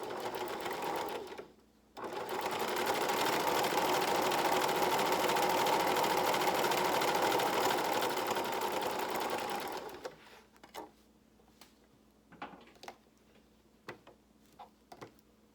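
A sewing machine stitching fabric for a face mask runs in a fast steady whir for several seconds, then stops, followed by scattered clicks and handling of the fabric.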